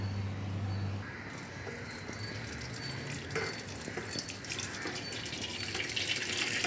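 Piping hot rice water pours into a colander, with a heavier gush at first and then a steady, close splashing rush as the liquid drains through.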